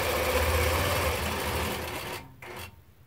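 A Nolting Pro-Series longarm quilting machine sews binding onto a quilt with a loud, continuous, close hum that cuts off near the end, leaving a short gap and a brief trailing burst.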